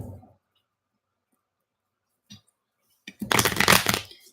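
A short burst of tarot cards being shuffled, a brisk riffling rush after a couple of faint clicks and near-silence.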